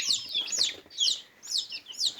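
Ordinary village chicks peeping, a series of high, sharp chirps in quick bursts with short pauses between them, close and fairly clear against a quiet background.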